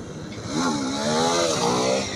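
A motorcycle engine revs up for a wheelie during an outdoor ride, the pitch climbing and holding high before easing off slightly, fairly close and alone without talk.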